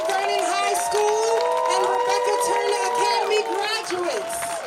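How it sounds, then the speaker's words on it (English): A crowd at the Mount Vernon High School 2025 graduation claps and cheers for the graduates, a continuous roar of applause with whoops and shouts across the whole stretch. "Can we get a round of applause for our 2025"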